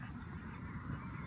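Small ducks quacking at sunset in Kampen, faint and distant beneath steady outdoor background noise, with no voices.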